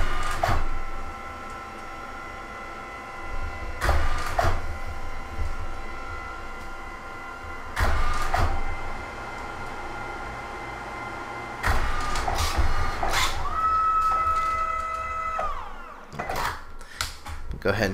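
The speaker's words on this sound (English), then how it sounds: "we'll go ahead and let it print" A photo printer runs with steady mechanical whirring, broken every few seconds by louder clunks and feeding sounds, and a brief rising whine near the end.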